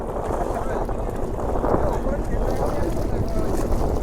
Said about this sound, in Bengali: এই যে আমাদের নৌকা চলে এসছে, এই নৌকাতে করে আমরা যাব কুমিরমারি।